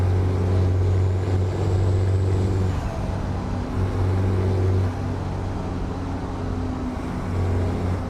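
Steady, droning diesel engine of a truck cruising in a trucking simulator, a constant low rumble with subtle shifts in pitch and load, heard alone without talk.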